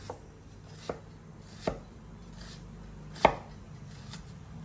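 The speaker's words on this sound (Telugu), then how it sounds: "ఆనియన్స్ని సన్నగా కట్ చేసుకోవాలండి" Onions being finely sliced with a knife on a board, a handful of sparse, sharp chops spaced irregularly against a quiet room.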